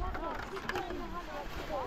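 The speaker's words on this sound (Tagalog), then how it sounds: "lakas ang hangin" Strong wind blows outdoors in Finland, roaring steadily and buffeting the microphone for the whole stretch, with faint voices underneath.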